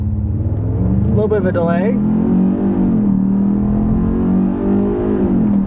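A 2021 Genesis G80 2.5T AWD in sport mode accelerates on a back road, its engine note a steady, rising drone throughout, with someone talking over it briefly.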